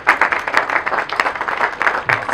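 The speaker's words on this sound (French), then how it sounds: "Merci beaucoup pour les applaudissements, s'il vous plaît, pour notre marraine" An audience at a school excellence day ceremony applauding the godmother's speech, a loud, dense burst of many hands clapping close by, steady throughout.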